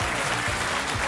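A crowd applauds at a regional pop music awards ceremony, a short burst of dense, loud clapping filling the room.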